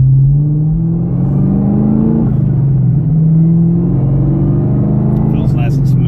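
Steady engine drone of a 2018 Camaro ZL1 cruising on a highway near Las Vegas, a loud continuous rumble inside the cabin with slowly shifting pitch as it pulls, under someone talking.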